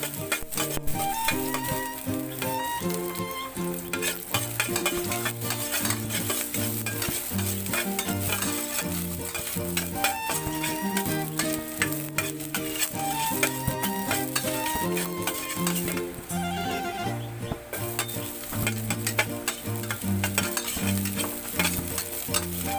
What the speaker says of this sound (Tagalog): Naglagay na nga rin pala ako ng konting langis dyan para nga makapagsimula na tayong gumisa